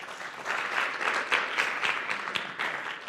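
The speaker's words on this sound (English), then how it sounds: "I have never had an applause before I've spoken, ever before." An audience at a veterinary lecture on zoological endoscopy claps in a short burst of applause that swells, peaks, and begins tapering off, with no speech over it.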